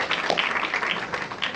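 An audience applauds Dr. Kofi Annie at a live talk, a brief, moderately faint patter of many hands clapping together with no voices over it.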